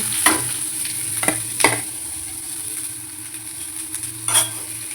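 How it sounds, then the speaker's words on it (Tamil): Chopped onion, green chili and curry leaves sauté in a pan for a lentil dosa batter, giving a steady soft sizzle with occasional sharp clinks of stirring, close and continuous without speech. "இதை வதக்கி, வெங்காயம் பச்சை மிளகாலாம் போட்டுக்கோங்க."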